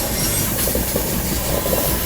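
Pushpak Express passenger train passing close by at a crossing, a loud continuous rush of rolling wheels and rail rumble with faint clickety-clack, steady throughout.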